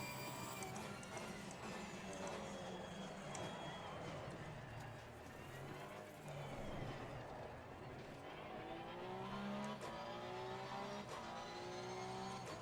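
Race car engine in the Assetto Corsa Competizione video game during an online race at Spa, a continuous whining drone whose pitch climbs and drops through gear changes, with a faint voice underneath at times.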